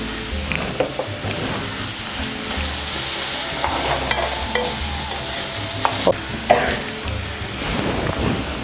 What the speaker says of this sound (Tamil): இந்த வெங்காயம் வதங்கட்டுங்க.